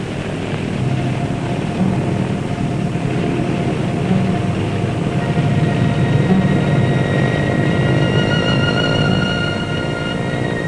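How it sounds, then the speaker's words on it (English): A loud, steady roar of 1940s military aircraft engines at airfield dispersals fills the air, with whining tones climbing higher as the engines rev up near the end. "Out in the dispersals, you hear them winding up those engines."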